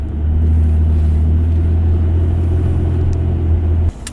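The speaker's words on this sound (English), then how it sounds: "I got Isley and Nama in the car right now" A deep, steady low rumble fills a car cabin while driving, droning evenly and loud throughout before dropping off sharply near the end.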